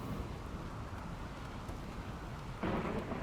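Rain and low thunder in the colony-survival game Rimworld, a faint, steady wash of rainfall with a soft rumble, swelling slightly near the end, no one speaking.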